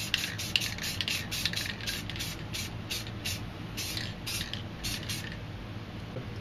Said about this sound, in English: And you don't need to spray the paint really thick.